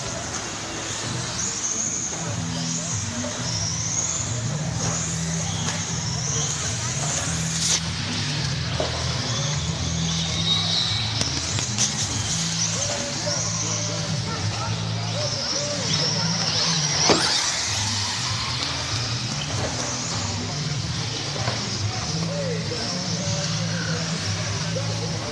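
RC cars racing at OC RC Raceway in Huntington Beach, California: a steady, high-pitched whine of small electric motors holds for the whole stretch, with a constant crowd murmur underneath.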